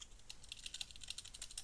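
Fast, light typing on a computer keyboard, a close run of crisp key clicks at an uneven rhythm with no voices.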